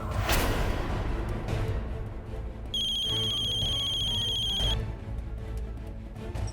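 A mobile phone ringtone chirps out as a steady high electronic tone for about two seconds, set against muffled background room noise.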